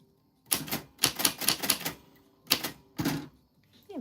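A typewriter being typed on in short bursts of sharp mechanical clacks, separated by brief pauses, with a faint rising whir near the end, close and clear with no talking.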